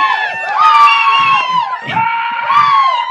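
A crowd at a trailer launch event cheers, whoops and shouts loudly and continuously, with many excited voices, including high-pitched ones, rising and falling throughout.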